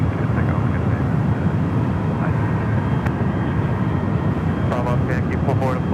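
An airliner takes off from runway 28 Left at San Francisco International Airport, its jet roar a steady, loud, broadband rush that fills the whole stretch without letup.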